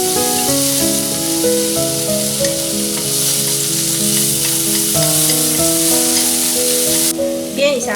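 Shiitake mushroom strips and vermicelli stir-fry in a little oil, a hissing sizzle running beneath loud melodic background music that drowns much of it, until the frying drops away near the end.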